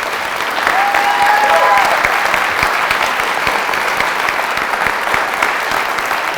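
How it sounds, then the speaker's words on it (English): Audience at a Q&A event breaking into a loud, sustained round of applause, thick and even clapping throughout with a few cheers or whistles early on. "massive round of applause"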